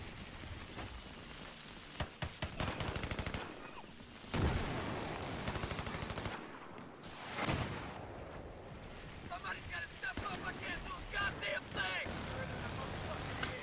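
During a Rush attack on Wake Island in Battlefield 3, gunfire strikes an amphibious amtrac vehicle. Scattered shots and fusillades sit fairly low in the mix, with a few louder bangs, under a steady background of engine and water noise.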